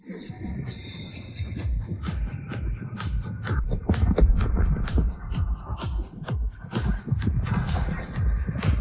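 Horses clatter about in a chaotic, uneven run of hoofbeats and stamping, loud and close, with faint neighing mixed into the commotion.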